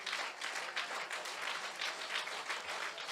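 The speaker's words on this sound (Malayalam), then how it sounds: "ಕೈ ತಟ್ಟುದಾದ್ರೆ ಚೆನ್ನಾಗಿ ತಟ್ಟಬೇಕು." Church congregation clapping hands together at a revival conference, a dense steady wash of applause filling the space throughout, with no talk over it.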